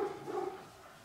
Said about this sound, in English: it's my dog outside